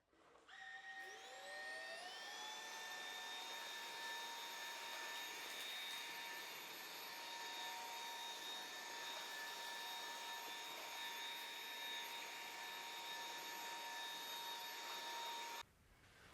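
Aspiron vacuum cleaner on high power mode, starting with a rising whine that settles into a steady high-pitched motor tone. It runs continuously and fairly close, then cuts off abruptly near the end.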